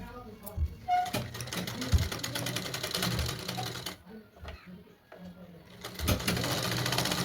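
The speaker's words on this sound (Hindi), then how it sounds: "धीरे धीरे इसकी फिनिशिंग के साथ सिलाई करेंगे।" A sewing machine stitches a katori-cut blouse in a steady, fast mechanical whir with a few brief pauses, running under someone speaking as she works.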